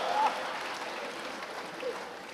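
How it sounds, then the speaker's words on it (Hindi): Audience applause at a kavi sammelan, a poetry gathering for Maharaja Aggarsain Jayanti, heard as a steady wash of clapping throughout the short stretch at moderate level. "जरा जोरदार ताली बजा।"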